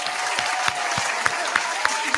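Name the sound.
clapping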